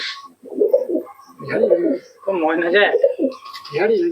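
Pigeons at a Murshidabad pigeon sale, including Giribaz and young moulting birds, coo repeatedly in close, loud bursts, with brief pauses between calls.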